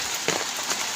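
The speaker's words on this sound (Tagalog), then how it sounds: "makalakas naman ng ulan" Heavy rain pours steadily onto surfaces near a house with a flooding drain, a dense hiss with a couple of slightly louder splashing surges in a brief moment.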